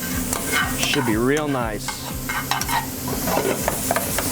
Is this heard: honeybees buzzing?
no